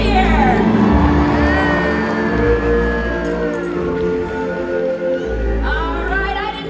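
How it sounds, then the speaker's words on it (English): Stadium audience at an orca show cheering and whooping for a killer whale's big bow jump in front of the stage, loud crowd shouts and cheers swelling, with an announcer's voice over amplified speakers. "let's give him a big cheer"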